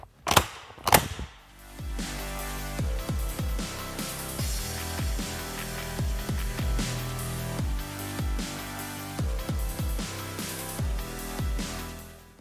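Shotgun buckshot fired at a laptop: two sharp, loud blasts close together at the start, followed by a long stretch of dense, steady rattling clatter and repeated impact knocks.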